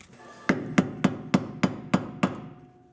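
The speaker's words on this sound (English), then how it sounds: "Hit the screwdriver with the hammer and bend that in." Seven sharp metallic hammer strikes on a screwdriver, bending in a lip to secure an axle nut on a Civic, evenly spaced and fairly close, each with a short ringing decay.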